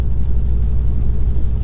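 A car fitted with a Carven exhaust rumbles while driving at highway speed with cylinder deactivation engaged, producing a steady, loud low-pitched drone that holds evenly throughout, with no talking.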